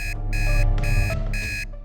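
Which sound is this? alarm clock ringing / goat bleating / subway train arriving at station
alarm clock ringing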